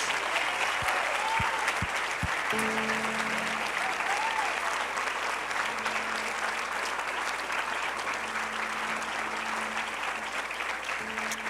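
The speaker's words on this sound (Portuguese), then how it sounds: "dê uma forte salva de palmas para Jesus" A crowd claps loudly and continuously, sustained applause filling the whole stretch with a few faint tones underneath.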